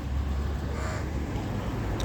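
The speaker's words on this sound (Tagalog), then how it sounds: "Ayun yung uwak." A crow caws against a loud, rumbling outdoor background, the call partly buried under steady low noise.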